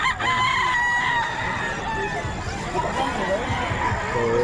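Gamefowl roosters of Boston and Gilmore bloodlines crow amid a noisy gathering, their drawn-out calls rising over steady crowd babble and nearby talking.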